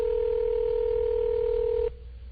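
A telephone is dialed, with a steady, loud tone ringing out alone for nearly two seconds before cutting off sharply to a faint, hollow line hiss.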